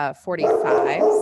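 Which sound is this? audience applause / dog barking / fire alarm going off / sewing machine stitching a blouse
dog barking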